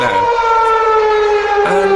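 A loud midday town siren wails with a steady, sustained tone, briefly dipping and rising again near the end.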